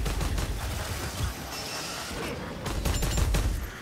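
A ratling gun in the Warhammer Vermintide game fires a sustained, dense barrage of rapid shots, a loud, continuous rattling crackle that runs for about four seconds and swells again near the end.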